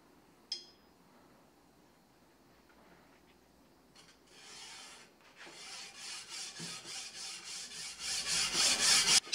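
Scrubbing forge scale off a forged steel bushcraft chopper blade: a quiet start with one sharp click, then rasping strokes that grow louder and faster into a steady rhythmic back-and-forth scour.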